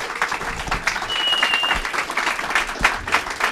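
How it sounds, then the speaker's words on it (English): An audience at a triathlon club talk gives steady, dense applause for two guest speakers. Many hands clap fairly close throughout, with a few faint voices and cheers mixed in. "How about a round of applause for Lesley and Simon?"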